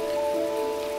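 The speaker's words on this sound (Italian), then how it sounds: "Ok, piove pure tanto." Heavy rain falling in the video game Heavy Rain, a dense continuous hiss of downpour under steady tonal game hum, loud and unbroken for about a second.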